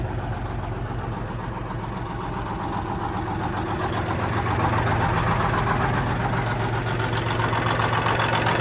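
A Steiger Cougar farm tractor idles on a cold day with a steady, deep diesel rumble and a fast, even knock. The sound is loud and close and continues unbroken without talking.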